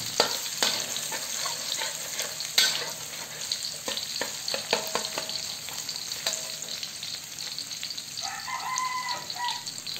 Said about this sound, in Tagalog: kapag mainit na ang mantika, ilagay na natin ang hiniwang bawang. Ayan, lutuin lang natin ang bawang ng ilang segundo